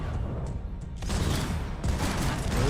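Dense bursts of rapid gunfire crackle continuously in Max Payne 3, a loud sustained barrage of shots with booming low end, typical of a video game firefight.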